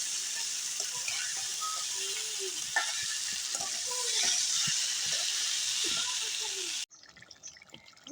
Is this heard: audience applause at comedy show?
no